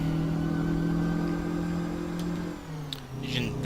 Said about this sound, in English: This engine sounds awesome.